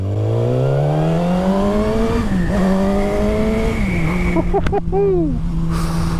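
A Suzuki GSX-R1000 K8 motorcycle engine runs loud and steady close by, its pitch rising and falling with a few throttle changes and a brief quick blip near the end.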